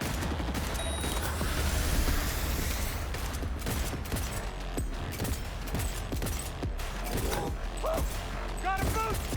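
Rapid bursts of gunfire from a Cyberpunk 2077 firefight crackle throughout, dense and continuous with booming low end and metallic clanks, while a player's voice calls out over the shooting.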